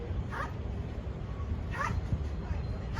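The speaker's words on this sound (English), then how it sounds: "some weird barking dog over there." A small dog barks a couple of times some distance away outdoors in a small Oregon town, faint high yips spaced apart over a low rumbling background.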